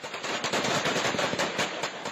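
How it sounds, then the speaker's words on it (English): Sustained volleys of gunfire in Suwaida, a city in southwest Syria, during clashes between locals and Bedouin tribesmen; dense, continuous rapid bursts of shots fill the whole stretch with no pauses and no voices. "Sustained volleys of gunfire erupt in Suwaida"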